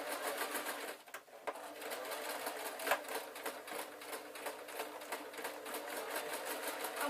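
A sewing machine stitches a canvas waistband onto a denim-style skirt, whirring in a fast steady rhythm of needle clicks, close and continuous with one brief pause.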